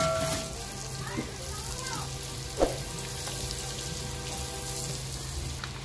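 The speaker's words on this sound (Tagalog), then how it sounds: "magigisa tayo ng sibuyas at bawang" Onion and garlic sauté in a pan for chicken à la king, a steady soft sizzle with a few clinks of a utensil.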